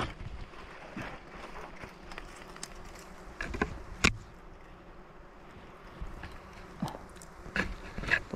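Dwarf honey bees buzz around their large nest high in a tall tree, a dense steady drone broken by several sharp close rustles and knocks, with no talking.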